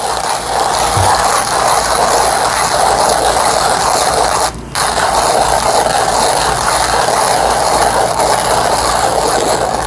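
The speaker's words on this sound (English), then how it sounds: "I readjusted the grinder so that way it would generally work better for extraction time on the origami." Coffee beans being ground in a grinder freshly adjusted for a pour-over brew, a loud continuous close whirring grind that dips very briefly midway and then carries on steadily to the end.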